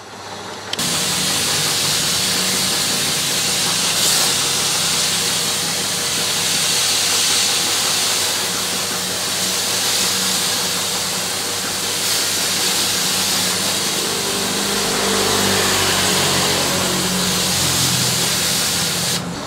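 A power sprayer SC22 driven by a 1/4 to 1 hp electric dynamo motor runs continuously, a loud steady hissing spray with a constant motor drone, unbroken for nearly twenty seconds with no talk.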